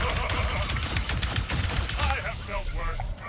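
Rapid, loud bursts of gunfire from Ratchet & Clank: Rift Apart, a dense rattling fusillade under chaotic game noise, ending in a few quieter electronic warbles.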